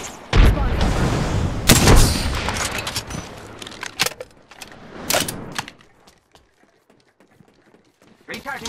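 Gunfire in Apex Legends: dense bursts of rapid shots and sharp cracks in the first half, giving way to scattered distant pops, with a voice speaking over the action.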